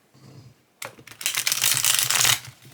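A compact deck of slippery tarot oracle cards being shuffled up close: rapid riffling, flapping and clicking bursts that build in loudness after a short pause, with a faint low hum underneath.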